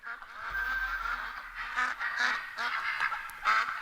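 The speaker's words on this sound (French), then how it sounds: "Eh il y a masse de canards là. Ça coin de fou." A flock of ducks in the hunting video game theHunter quacks nonstop nearby, the calls overlapping and bunching into louder bursts.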